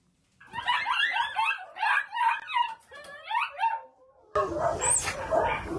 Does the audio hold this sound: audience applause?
no